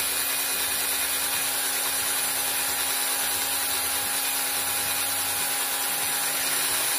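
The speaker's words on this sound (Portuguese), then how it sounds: "E agora você deita um pouco a furadeira e deixa ele em diagonal" A steady, high-pitched electric drill whine runs without pause, boring diagonally into wood with a 2 mm bit, with a faint grinding texture underneath.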